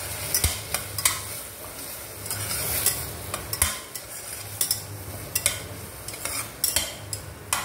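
Mutton pieces stir-fried in a pan for mutton rice sizzle steadily up close while a metal spatula scrapes and clinks against the pan in irregular strokes.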